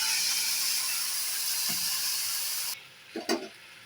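A little water hits a paste of cumin, ginger and tomato in a hot pan, setting off a loud, bright sizzle. The hiss cuts off abruptly, followed by a couple of soft clanks of a spoon.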